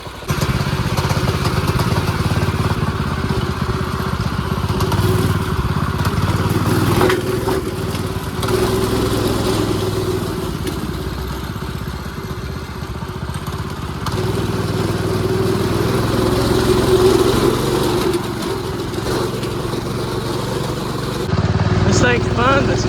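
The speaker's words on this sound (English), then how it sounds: "staying running now, so I guess we'll take it for a spin." A small engine on a homemade van go-kart runs loudly and close throughout a ride, with a steady buzzing drone that swells and eases as the throttle changes, and voices talking over it.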